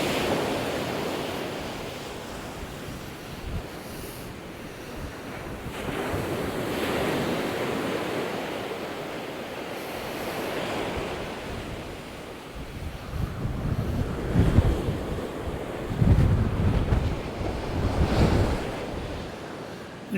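Sea waves break and surge continuously on the beach at Walcott in stormy conditions, a loud broad roar swelling and falling with heavy wind buffeting the microphone, with no voices.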